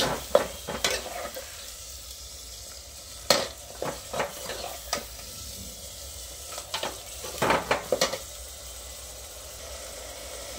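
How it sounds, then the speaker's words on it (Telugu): Chopped tomatoes frying over onion and green chillies in a pan, with a steady close sizzle broken by irregular sharp scraping knocks of a spoon stirring, clustered near the start and end, and no voices. "వేగాక ఈ టమాటా దీన్ని కూడా బాగా వేగించేసుకోవాలి."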